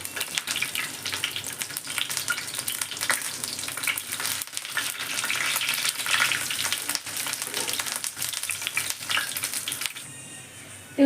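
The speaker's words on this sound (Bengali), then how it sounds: "এই বেগুনটা কিন্তু ভাজা হতে একটু সময় নেয়" Brinjal slices with a coating shallow-frying on a tawa over low flame produce a continuous close sizzle with irregular crackles and soft spatula clicks, fading near the end.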